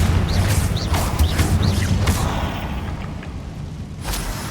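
A fiery Confringo spell blast in Hogwarts Legacy bursts with a booming impact and whooshing crackle, followed by a few sharp magical zips and a fading rumble, loud and close.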